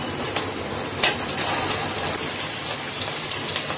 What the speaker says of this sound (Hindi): हम इन्हें गोल्डन होने तक फ्राई करेंगे।